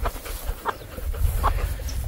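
Guinea fowl and chickens on a farm, with short clucking calls and rustling from the birds scattered through the moment, close by over a low outdoor rumble.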